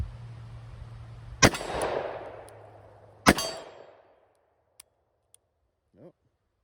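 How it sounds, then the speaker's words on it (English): Two loud, sharp .357 Magnum revolver shots from a Taylor's 963MF firing Armscor ammunition ring out outdoors, each followed by a long echoing decay, then faint clicks and a brief voice afterward. "Last, some Armscore 357 mag. Start with that smaller white target."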